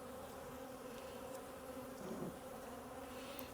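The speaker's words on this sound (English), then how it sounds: "These bees seem calm," Honey bees hum steadily in an open hive, a dense, continuous buzz close by with no talking over it.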